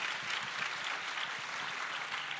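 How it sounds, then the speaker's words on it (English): Church audience at Saddleback Church applauding, a dense, even wash of clapping from many hands sustained steadily throughout with no voices over it. "Go ahead, you can clap for that."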